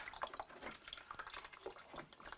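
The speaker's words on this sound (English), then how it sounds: "this is the water we're letting out at the moment from every outlet in the house" Water drains out of every outlet in a house as the plumbing is emptied, a faint, uneven trickling with scattered drips and no voices.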